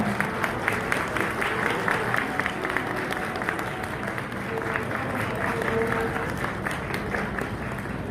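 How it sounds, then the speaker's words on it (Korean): Wedding guests applauding during the ring exchange, a dense, steady crackle of many hands clapping together throughout, moderately close and continuous. "여러분 뜨거운 박수 부탁드립니다."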